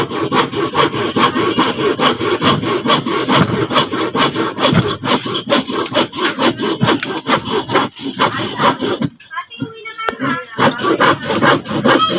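Rhythmic back-and-forth strokes of a hand saw cutting wood, close and loud, steady for most of the clip with a short pause near the end.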